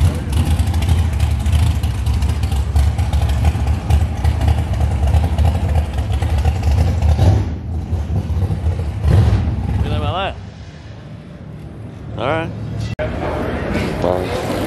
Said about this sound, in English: Somebody started up a hot rod here.